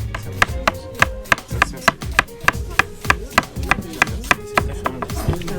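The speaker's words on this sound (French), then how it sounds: "là, je coupe fin, mais c'est juste pour faire voir comment on coupe fin" A sharp knife chops food finely on a board, a fast steady run of crisp close knocks at a brisk rhythm with no voices over it.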